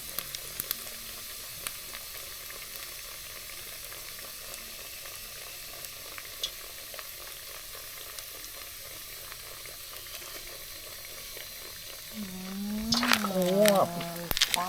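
Pork for crispy pork sizzling in very hot oil, a steady close crackling hiss throughout, louder toward the end where voices speak over it.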